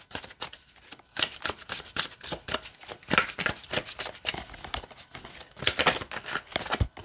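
A Black Seed Tarot deck being shuffled by hand, rapid close riffling and card slaps in quick irregular bursts, with no talking.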